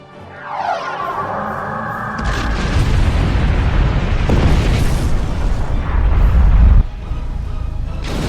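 Starship weapons strike in the Star Trek Online video game, setting off a run of heavy, rumbling booms and explosions that build and roll on for several seconds before one loud blast cuts off abruptly.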